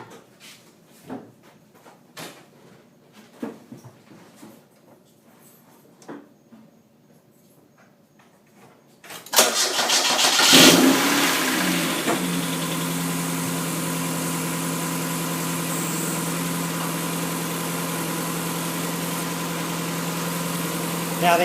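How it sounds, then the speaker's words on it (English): A Mazda Miata is heard first through scattered clicks and handling noises, then the engine cranks and catches at about ten seconds and settles into a loud, steady idle that runs to the end. "We're going to start the car up."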